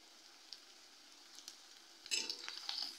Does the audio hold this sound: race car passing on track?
no